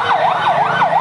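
A fire service and civil defence unit's siren arriving at a burning hawkers' market, a loud, close wailing tone rising and falling in a steady rapid cycle.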